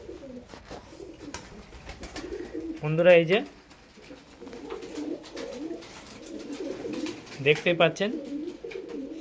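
Pigeons coo in soft, throaty bursts, close by and in two main clusters, under a person talking throughout.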